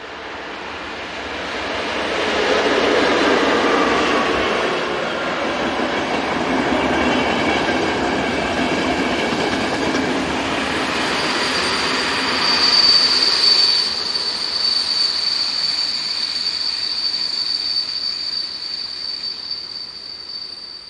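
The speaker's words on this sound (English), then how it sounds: "Locomotive-hauled trains are also common on this line." A Czech class 363 electric locomotive hauling a passenger train rolls past on the line, a long swelling rumble of wheels on rails with a high steady whine rising near the middle, then fading.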